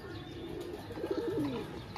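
Pigeons kept in pairs for sale coo softly and intermittently, a low throaty cooing rising briefly in the middle against faint background noise.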